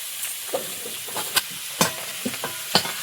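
Eggs fry in hot oil in a pan, a steady sizzle broken by sharp pops and the scrape of stirring, close and alone with no voices.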